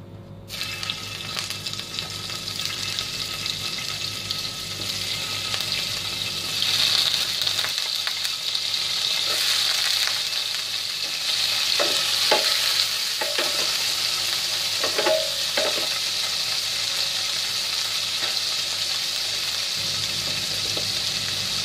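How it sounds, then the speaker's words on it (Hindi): Paneer pieces fry in a pan with a constant bright sizzle, stirred now and then with short clinks and scrapes, close by and steady throughout. "अब एक पैन में पनीर को फ्राई करेंगे।"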